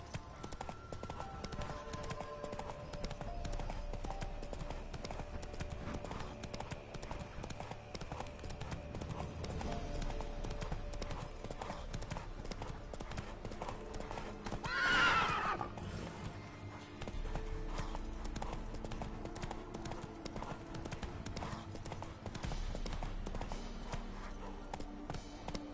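Hooves clip-clop in a steady galloping rhythm from a horse in a PS4 video game, moderately quiet, with brief game sounds and faint voices mixed in.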